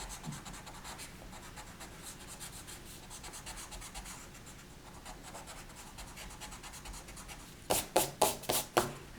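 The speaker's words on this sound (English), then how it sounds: "you can erase these circles now" A pencil drawing on paper being erased: faint soft rubbing for most of the clip, then a quick series of louder, close scrubbing strokes at the end.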